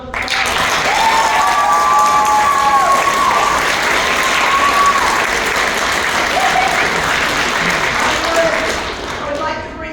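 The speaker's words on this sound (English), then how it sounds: "Let's give them another round of applause." Theater audience applauding a children's cast after a live stage play, loud sustained clapping from a large crowd with cheers and whoops on top, thinning toward the end.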